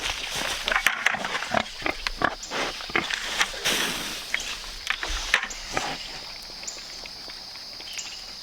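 Pigs packed in a livestock trailer grunt and squeal in a steady, busy stream of overlapping snorts, with clattering knocks and shuffling mixed in.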